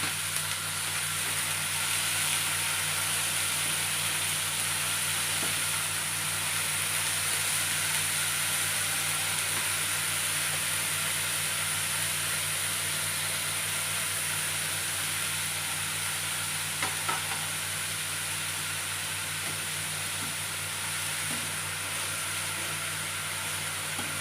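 Chopped pirandai chutney ingredients sautéing in hot oil, a steady, even sizzle and hiss that carries on without a break, close and unaccompanied by talk.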